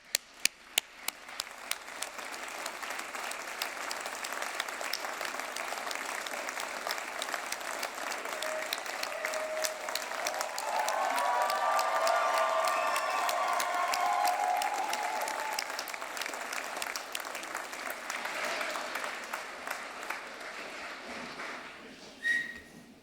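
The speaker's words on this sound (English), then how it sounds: "So please stand up and give each other a round of applause." Graduation audience at a University of Aberdeen winter ceremony breaks into sustained applause, with scattered cheers and a few whistles, building in the middle and fading toward the end.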